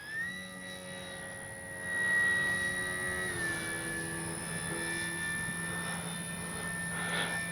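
A Flex RV-8 60E G2 radio-controlled plane glides in to land into the wind with crow flaps deployed, its electric motor a steady whine that shifts pitch partway through, heard at moderate distance without talk.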